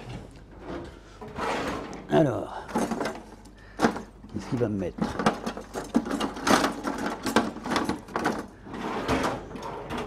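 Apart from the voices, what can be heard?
rummaging through kitchen cupboards and drawers for a spoon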